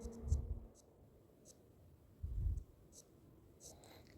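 Pen on paper making short Hindi shorthand strokes, quiet scratchy bursts at a few irregular moments, close and faint with no talk.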